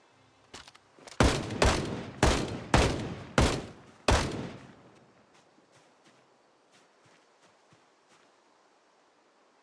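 Gunshots in the Project Zomboid video game: six loud, evenly spaced shots ring out close by, then trail into faint scattered pops and rustling that fade toward silence.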